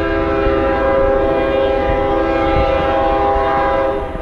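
A train sounds a long, steady horn blast, loud and close, with the rumble of rail cars underneath throughout.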